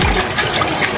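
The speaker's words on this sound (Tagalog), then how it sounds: "Ayan, magpa-flush lang." A Japanese washlet toilet flushes with a loud, close rush of swirling water, continuous for the full brief moment with no voices.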